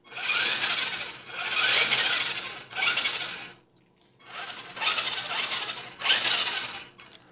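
The electric motor of a Helifar 9180 1:16 scale 4WD RC car whines under throttle in five separate bursts, each rising and falling sharply, with short silent gaps between them, close and fairly loud.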